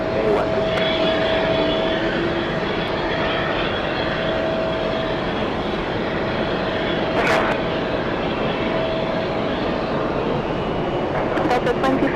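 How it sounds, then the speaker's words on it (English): A Delta Boeing 767-400 arriving from Orlando at JFK makes a steady, loud jet roar that holds throughout, close and broadband, with a faint high engine whine layered in. "Close-up arrival. Delta 767-400 flying in from Orlando, Florida."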